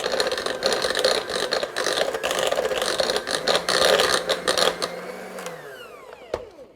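A stand mixer turns cookie dough for cinnamon roll cookies on low speed, giving a steady whirring hum with light rattles that runs throughout and winds down near the end.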